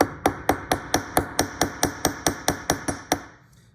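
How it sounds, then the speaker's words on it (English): Steady, evenly spaced hammer strikes, about fourteen sharp metallic taps, from the rounded face of a hammer peening a wire rivet on a handmade key chain, close and loud with no voices. "Now, I'm using the rounded part of the hammer."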